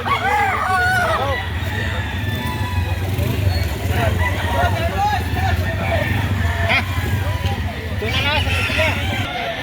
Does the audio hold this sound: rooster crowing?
yes